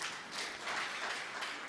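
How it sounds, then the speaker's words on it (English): An audience gives a brief round of applause at a partnership celebration event, a soft, diffuse wash of clapping heard from a distance. "So we can appreciate them again with another round of applause."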